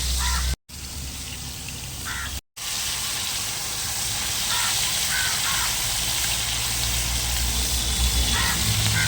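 Chicken leg pieces coated in masala frying in hot oil, a steady loud sizzle and crackle running throughout, briefly cut out twice near the start.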